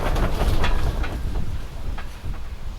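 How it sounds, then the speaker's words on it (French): Wind buffets the microphone in a low, rumbling rush that swells and fades over a few seconds, with no talking. "Petite bourrasque de vent."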